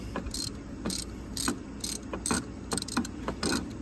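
A ratchet works a bolt loose on the thermostat housing of a 2004 Chrysler Crossfire with a 3.2 L engine, giving repeated short clicking bursts in an uneven rhythm, close and fairly clear, with no talk.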